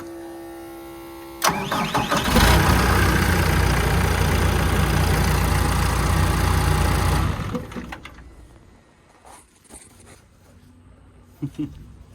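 A car engine cranks after its starter motor exciter wire is reattached, catches, and roars loudly at high revs for several seconds before settling to a quieter idle, with faint clicks near the end.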